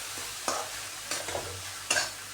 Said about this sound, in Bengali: দিয়ে এটা ভালো করে নাড়াচাড়া করে নেবো আবার